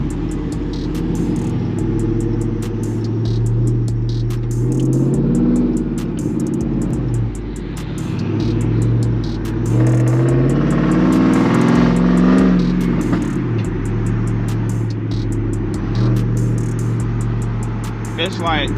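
A supercharged Chrysler 300 drives toward a gas station, its engine a loud, deep rumble from inside the cabin with a supercharger whine rising and falling as it accelerates and slows, while a person talks over it.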